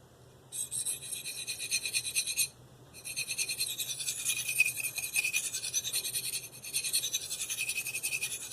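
A D2-steel Eafengrow CH3001 knife is drawn across a Spyderco medium bench stone in three long, light, gritty rasping strokes with short pauses between. Close, steady, and with no talking.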